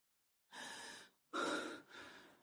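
Heavy, labored panting breaths in three long bursts, each close and loud, with a short pause after the first; no talking, just winded breathing after a few steps of walking.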